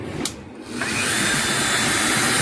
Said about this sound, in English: You barely hear the Dremel bog down at all.